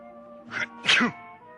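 A single sneeze, a quick sharp breath followed by a loud burst, close up over a steady low hum.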